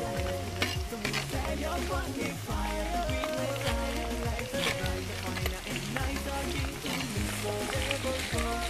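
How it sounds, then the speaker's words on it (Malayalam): Garlic and green chilies fry in hot oil for a pig liver fry, giving a steady close sizzle with repeated stirring scrapes and no talking. "കുറച്ച് വെളുത്തുള്ളി ഇട്ട് കൊടുക്കാം. പച്ചമുളകും കൂടി ഇട്ട് കൊടുക്കാം."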